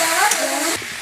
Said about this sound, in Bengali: মশলার সাথে একটু নেড়ে চেড়ে দেব।